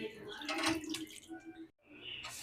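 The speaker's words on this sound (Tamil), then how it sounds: "மீன் நல்லா க்ளீன் பண்ணிக்கலாம்." Fish being washed in water makes splashes and swishes near the listener, stopping briefly before starting again, under a person speaking.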